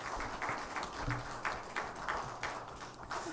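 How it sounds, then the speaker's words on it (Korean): A Korean university church congregation applauds its choir after an anthem at Sunday worship, a soft, fairly even patter of clapping in regular bursts over a low background hum, with nobody speaking. "우리 다시 한번 은혜로운 찬양해 주신 성가대원들에게 감사의 박수하겠습니다"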